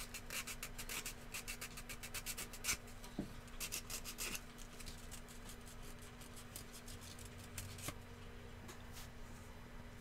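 Rapid keyboard typing at a desk during a live build session, a steady run of light clicks and taps close by over a constant electrical hum, with brief scraping sounds and no speech.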